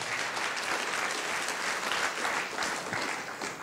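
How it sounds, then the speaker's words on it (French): An audience at the closing ceremony of an international adventure and discovery film festival applauds in sustained, fairly even clapping from a large crowd, heard at a moderate distance. "on peut les applaudir"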